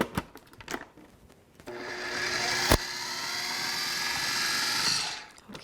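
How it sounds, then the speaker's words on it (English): A blender whirs steadily as it purées a tofu topping until smooth, starting after a few faint knocks and running loud and continuous for about four seconds before winding down. "we're going to go ahead and put our lid on and whiz that up"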